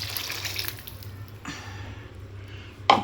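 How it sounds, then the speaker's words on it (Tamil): Rinse water pours and splashes from a blender jar into a cooking pot, close up, in a couple of short gushes ending with a sharp splash. "அந்த ஜார் தண்ணியை அதில் ஊற்றிடலாம்."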